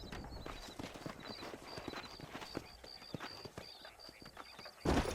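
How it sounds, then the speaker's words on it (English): Horses' hooves clip-clop in a steady rhythm on the ground in the video game Red Dead Redemption, fairly faint and continuous, with a brief louder burst at the end. "Let's see if we can track down that other herd of horses."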